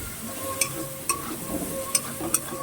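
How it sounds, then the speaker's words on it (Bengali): Prawns frying in a pan with jackfruit, giving a low steady sizzle broken by a few sharp clicks as they are stirred, fairly quiet, with no one speaking. "চিংড়ি মাছটাকে এবার ভালো করে লাল লাল করে ভেজে নিতে হবে। কিন্তু অনাবরত একটু নাড়তে হবে যাতে পুড়ে না যায়"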